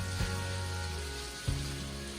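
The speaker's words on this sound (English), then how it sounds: "Now let's saute our shrimps for the gamberetti." Shrimps with chopped garlic sautéing in a pan for spaghetti, a steady close sizzle with brief clatters of stirring at two moments.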